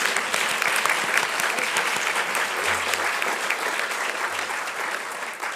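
Sustained applause from a luncheon audience fills the room, a dense even patter of many hands holding steady throughout with no voices on top.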